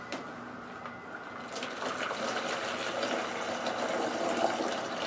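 Water pours steadily into a cardboard box lined with newspaper, a soft continuous gushing that stays quiet and grows slightly fuller over several seconds, with no talking.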